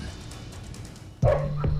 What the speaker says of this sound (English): John McAfee has a new set of dogs